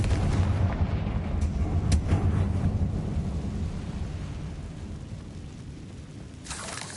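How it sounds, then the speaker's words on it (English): In Hogwarts Legacy, the Confringo fire spell explodes with a loud, booming low rumble. The blast decays over several seconds, with a few sharp crackles early on and a faint burst near the end, and there is no talking. "Confringo."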